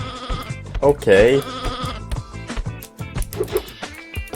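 Sheep bleat in the video game Sheep, Dog n' Wolf, short wavering cries mixed with game music and effects while someone talks over them.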